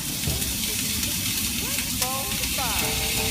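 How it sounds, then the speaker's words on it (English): Onions sizzle in a hot pan while meatballs are being cooked, a steady broad hiss that holds throughout at close range, with faint clinks and chirps from utensils and no talk. "Now we're going to get our onions in there, and we want to sweat the onions off to soften them"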